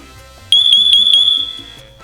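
Siterwell smoke and carbon monoxide detector sounds a loud, piercing electronic alarm in a rapid run of about five beeps, close by, over quieter background sounds.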